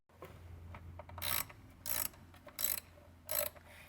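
An 8 mm socket on a ratchet loosens a hose clamp on the hydraulic tank of a Bobcat zero-turn mower, giving four short bursts of quick, close ratcheting clicks with quiet gaps between them.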